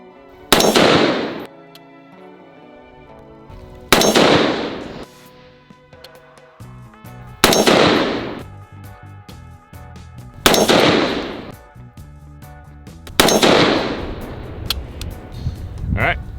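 An F4 Defense F4-15 EBR Lite AR-15 rifle chambered in 224 Valkyrie fires 60 grain Nosler ballistic tip rounds, five loud sharp shots a few seconds apart, each with a ringing echo that fades before the next.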